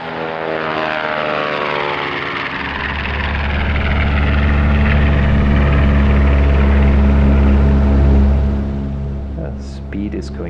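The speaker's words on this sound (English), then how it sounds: "So airplane is accelerating, it's getting airborne." Twin propeller engines of a B-25 bomber roar and climb in pitch as the plane accelerates down the runway for takeoff, loud and close with a deep droning throb that swells then eases; someone talks faintly underneath.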